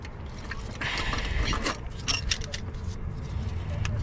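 Head bolts come out of a Honda K24 cylinder head with metallic ratcheting and clinking of tools and loose bolts, close and busy, with a person talking at times.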